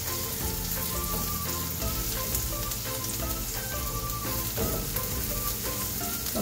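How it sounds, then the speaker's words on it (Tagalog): Onion and garlic sautéing in a pan for garlic fried rice, a continuous crackling sizzle with faint metallic clinks and a tonal hum underneath, no talking. "alam naman po natin kung paano natin isigis ang ating sibuyas, bawang"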